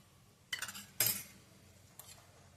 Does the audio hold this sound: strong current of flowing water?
no